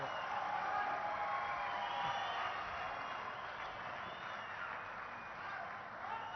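An audience applauding the unveiling of a foundation stone plaque at a ceremony, with continuous, dense clapping and crowd noise that holds at an even level throughout.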